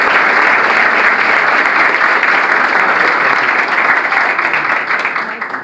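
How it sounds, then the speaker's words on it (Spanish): Loud, sustained audience applause at a municipal youth award ceremony, dense clapping filling the whole stretch and easing slightly at the end. "pido un fuerte aplauso"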